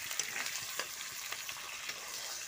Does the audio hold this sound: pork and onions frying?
yes